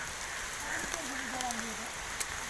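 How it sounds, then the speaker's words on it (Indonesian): Steady hiss of rain falling during a stormy ride along a foggy mountain road at Puthuk Gragal, Mojokerto, with a faint voice and a few sharp drops or knocks standing out against the constant wash. "menyusuri jalan ini yang penuh dengan hujan dan badai."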